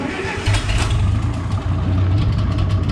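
A tractor engine cranks and catches close by, then settles into a steady, throbbing low idle that runs without a break.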